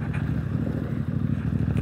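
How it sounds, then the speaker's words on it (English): A street scrambler motorcycle engine drones steadily up close while riding onto gravel, with a low throbbing rumble and wind noise. "We're going straight onto some gravel, so we're going to change down into third at least."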